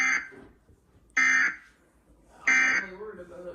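Emergency Alert System end-of-message tone, three short loud buzzy data bursts spaced about a second apart with brief quiet gaps between them.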